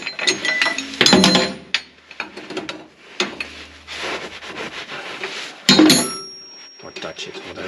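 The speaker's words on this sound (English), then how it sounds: "So now you can unscrew the nut fully." Nut being unscrewed by hand on the steering knuckle of a Massey Ferguson 235 tractor, giving short ratcheting and metallic turning clicks in bursts, with someone talking over it.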